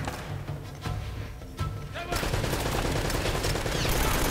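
Automatic turret fire in Uncharted: Drake's Fortune on PS4, a dense continuous burst of gunshots that grows louder and fuller partway through, with no talk over it.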